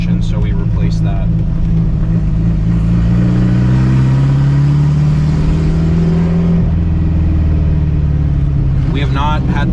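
A modified 1976 Porsche 912E with an upgraded clutch drives along, its engine droning steadily loud with a rising and falling pitch as it pulls, the whole stretch carrying a constant mechanical hum.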